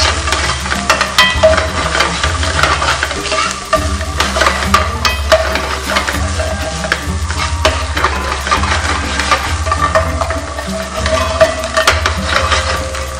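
Prepared masala sautés in a pan for a chicken quesadilla, giving off a steady, close sizzle with repeated stirring scrapes and clinks throughout and no talking.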